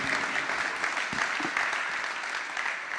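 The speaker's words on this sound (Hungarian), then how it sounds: "egy nagy tapsot kérnék szépen Fodor Csengének!" Steady audience applause fills a hall at a handball coaching methodology professional day, dense and continuous throughout without any voices over it.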